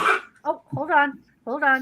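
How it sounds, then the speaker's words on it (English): A sick dog gives a short, harsh cough right at the start, close by and fairly loud, and then a person speaks briefly. "that's my dog coughing, not me."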